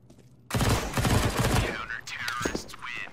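Rapid gunfire in a shooter video game, a sudden dense burst of shots starting abruptly and continuing for about a second and a half, followed by a voice talking over softer effects.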